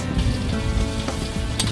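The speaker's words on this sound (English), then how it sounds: "So you just want to keep frying it until it's nice golden brown." Seafood frying in hot oil with turmeric-heavy paste sizzles loudly and steadily, a dense close crackle with occasional stirring, and no talking over it.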